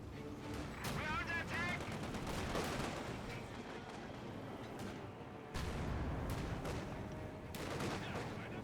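A DShK heavy machine gun fires in Company of Heroes 2 amid a battle, rapid bursts of gunfire mixed with other weapons and explosions, fairly faint and continuous, with a commentator talking over it.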